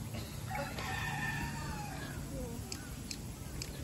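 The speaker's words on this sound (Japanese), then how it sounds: "鶏の声するね。" A rooster crows somewhere in a zoo, faint and distant, its drawn-out call rising over steady outdoor background noise with no talk.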